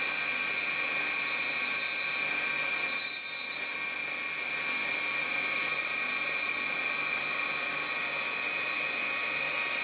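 A surface grinder with an endmill grinding attachment slowly grinds a split point on a drill bit, giving a steady high-pitched whine and hiss with a continuous motor drone, close and unbroken throughout.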